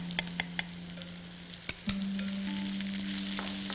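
Turmeric and chili flakes frying in hot oil on lowered heat, a steady soft sizzle with a few clicks and taps and a low hum running underneath.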